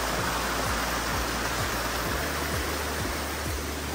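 Loud, steady rushing water roars close by near Dronagiri fort, a dense unbroken wash of noise like a strong stream or small waterfall, with faint low thumps underneath.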